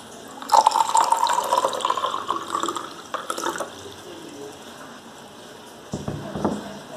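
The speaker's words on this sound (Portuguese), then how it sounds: "Despeje água mineral." Mineral water poured into a glass container holding a stone, a short gurgling stream of liquid for about three seconds, then a few faint drips and clinks in a quiet room.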